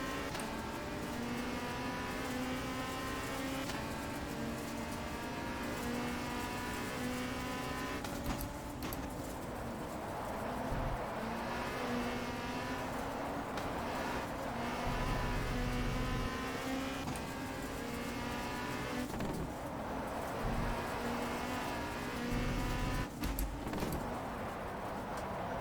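A touring car engine in a WTCC racing game, set at Oschersleben in Germany, drones steadily through the gears with rising and falling harmonic tones and shifts, continuous and moderately loud with no talk.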